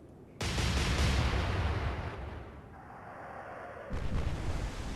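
Naval guns on a World War II-era Kriegsmarine warship in Atlantic Fleet fire a heavy salvo, a sudden booming blast that rumbles and decays, followed by a second deep report near the end.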